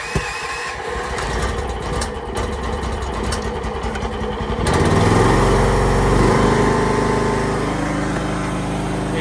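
A Chinese FF15 mini excavator's small engine cranks with rapid clattering, catches about halfway through and settles into a loud, steady, buzzing run close by.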